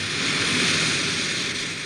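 A private jet's engine roars as a steady, loud, broadband whine and rush with no breaks.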